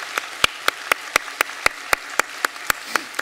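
In a Sunday church service, the congregation claps to welcome newly registered families, a steady, evenly spaced series of sharp unison claps, about four per second, over a quiet room.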